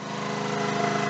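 A Ryobi 4000 watt inverter generator running, a steady, close engine drone with an even buzzing hum and no talking.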